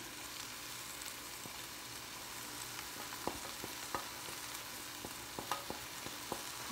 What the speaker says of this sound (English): So now I'm going to take my chorizo and I'm just going to sprinkle this all around back into my skillet.